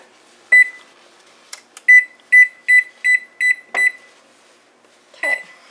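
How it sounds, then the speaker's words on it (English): A kitchen timer beeps six times in a quick, even series of loud electronic tones, with scattered kitchen clatter before and a final beep shortly after the run. "I'll set my timer."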